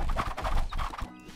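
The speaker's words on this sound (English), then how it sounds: "Horses in the water." Horse hooves clip-clop in a busy cluster with faint whinnies from a Circle Empires strategy battle, where horses move through water, heard briefly and close.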